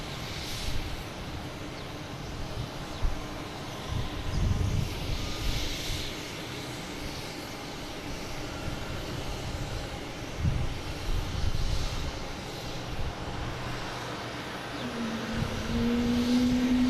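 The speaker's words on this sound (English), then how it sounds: "next coming in, we have United Airlines at A319 coming in from Newark" A United Airlines Airbus A319 arriving from Newark gives a broad, steady jet roar at moderate distance that swells slightly and rumbles on throughout, with no talk over it.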